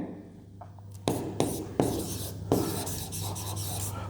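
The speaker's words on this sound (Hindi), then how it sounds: "तो यहां पे हम लिखते हैं" Pen writing on paper during a class 10 polynomials lesson: a few separate scratchy strokes, then a longer run of writing, close and fairly quiet, with a low steady hum behind and no talk.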